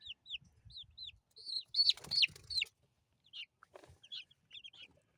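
Baby chicks peep in a row of high, bright chirps, with a burst of louder cheeping in the middle and soft low clucks underneath, then lighter scattered peeps toward the end.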